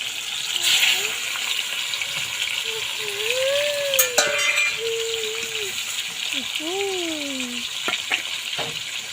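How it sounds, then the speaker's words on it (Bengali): Fish frying in plenty of oil in a pan, a continuous close sizzle with some stirring, while a person talks over it. "এই মাছটা আমি ঢেকে অনেকক্ষণ ধরে ভাজা করে নিয়েছি"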